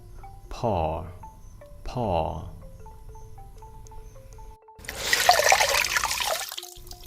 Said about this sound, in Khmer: កិរិយាសព្ទទី11ចាក់យើងប្រើពាក្យថា pour